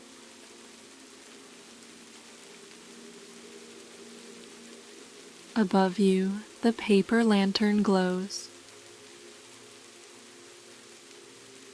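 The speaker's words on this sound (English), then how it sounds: "Outside, the rain falls on the roof," Rain falls on a roof on a night in Kyoto, Japan, a soft steady hiss running evenly throughout, while a calm voice narrates briefly in the middle.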